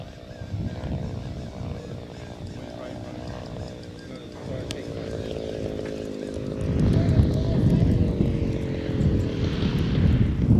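A giant 100cc RC Corsair model plane drones steadily overhead, its buzzing propeller engine swelling louder toward the end, with outdoor voices talking underneath.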